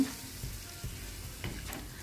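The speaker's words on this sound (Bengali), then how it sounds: "বাচ্চারা এগ ফ্রাই খাবে বলছে ওদের জন্য এগ ফ্রাই করতেছি" Eggs frying in a pan in a home kitchen, a faint, continuous sizzle with a few soft scraping touches, quiet and close with no talking.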